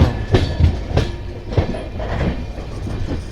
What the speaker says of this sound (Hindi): अभी को लाइन चेंज कर रहे हैं, अपनी मेन लाइन पे आ रहे हैं, देखो कैसे क्रॉस कर रहे